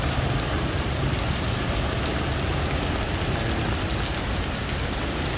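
Continuous rain falling by the Marikina River, a dense, even hiss of drops on surfaces that holds steady and loud throughout with no voices.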